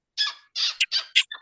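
Children kiss their hands to imitate little bird chirps, a run of five or six short squeaky bursts, close and fairly loud, coming in an uneven rhythm.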